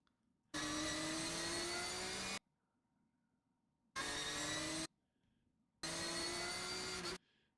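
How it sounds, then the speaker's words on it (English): In a racing video game at Chuckwalla, a race car's engine roars at full throttle in three loud bursts with rising pitch, the middle one shorter, separated by near-silent gaps. "feeds in full throttle, goes to fourth"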